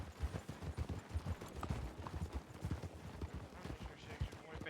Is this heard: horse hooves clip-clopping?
yes